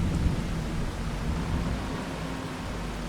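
Rain and rolling thunder in Farming Simulator 25, a steady dense hiss of rainfall with low rumbling underneath, continuous and fairly loud with no talking.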